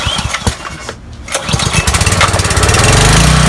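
A Ryobi 2900 PSI gas pressure washer engine is pull-started with choke on: a few rough, sputtering pulls give way to a steady, loud mower-like running drone in the last second or so.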